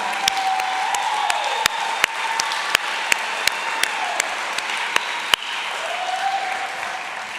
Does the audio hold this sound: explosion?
no